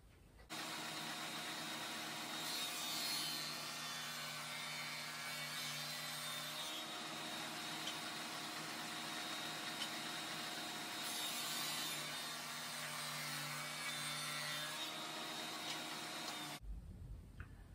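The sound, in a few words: table saw dado blade cutting dados in wood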